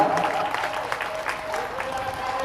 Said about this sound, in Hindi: हम सब लोग सम्मान में ताली को बजाएं